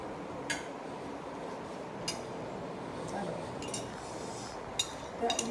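Sparse, faint clinks of cutlery against dishes at a home meal of bitter gourd fry and raw jackfruit, a handful of light taps spread over a quiet room hush.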